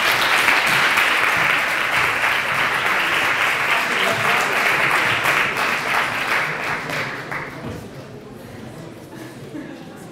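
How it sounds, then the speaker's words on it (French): Sustained applause from a crowd, steady and dense for most of the stretch, thinning slightly toward the end. "Et que l'on peut applaudir aussi."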